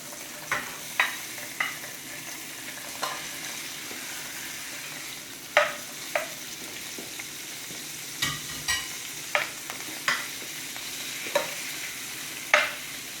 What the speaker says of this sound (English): So while our butter is melting, we're going to add our sausages in.